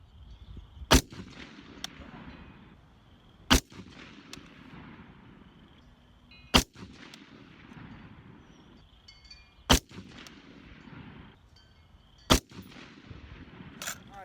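Five rifle shots, fired by a shooter using an Aimpoint sight, crack out sharply at roughly three-second intervals, each a loud sudden report followed by a brief outdoor echo, with quiet ambient noise in between.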